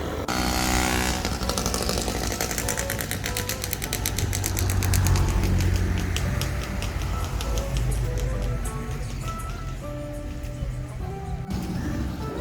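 Loud, continuous street traffic with a buzzing engine passing close, rough and steady throughout, while a voice speaks faintly underneath.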